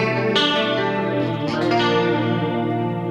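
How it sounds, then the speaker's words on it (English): Processed guitar drones with a shimmering, detuned pitch wobble from a pitch detune effect layered over a large reverb, thick and steady throughout. "And then pitch detune on top of all of that."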